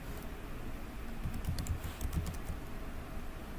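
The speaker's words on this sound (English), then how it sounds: "now I'm going to type the question" Fingers typing a question on a computer keyboard, a quiet run of soft clicks that thickens into a quick burst of keystrokes near the middle, close and low in level with no talk.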